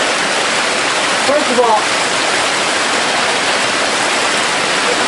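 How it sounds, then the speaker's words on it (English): Standing beneath the Blauthaler waterfall, the roar of falling water fills everything as a loud, dense, unbroken rush, with a person briefly speaking over it. "I'm enjoying being under the waterfall."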